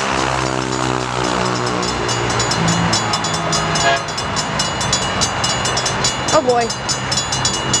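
A freight train rolls past close by at Rancho San Juan Capistrano, its loud rumble and wheel clatter constant, with horn-like tones early on and a brief spoken exclamation near the end.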